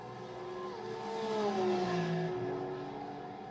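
Race car engines from the iRacing sim at Bathurst, several cars revving and shifting with rising and falling engine tones, fairly loud and steady, with a whirring tire and track noise underneath and no voices.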